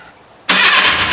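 A Ford Bronco engine cranks and catches after its battery was charged, jumping from near silence into a loud, steady broadband roar that holds close and unbroken.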